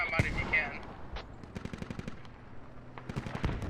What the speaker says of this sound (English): See where a firefight's happening.